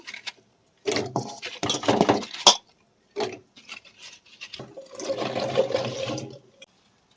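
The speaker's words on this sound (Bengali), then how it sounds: "ননস্টিক কড়া বসিয়ে দিলাম, একটু জল দিয়ে দেবো।" Water splashing and pouring into a nonstick pan holding taro leaves, in a few separate bursts with short pauses between, close and moderately loud, with a longer steady pour toward the end.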